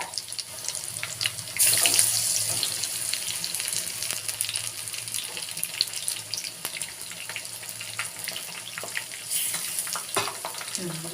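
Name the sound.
palak baji (spinach fritters) frying in oil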